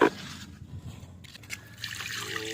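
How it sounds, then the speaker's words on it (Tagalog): Water is poured out of a container at the seaside, a soft trickling and splashing that runs steadily for a couple of seconds and then grows into a fuller pour. "buhos natin para malaman ang kalagayan"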